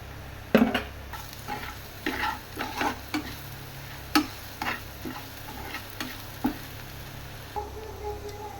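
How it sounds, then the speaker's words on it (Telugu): Curry with a spoon of salt and a spoon of chili powder frying in a pan, a soft steady sizzle under a series of sharp spoon clicks and scrapes as it is stirred, close and moderately loud. "కర్రీ చూడండి చక్కగా ఫ్రై అయింది కదా"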